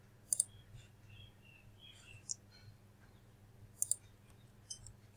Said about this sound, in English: so I right click it and create a class.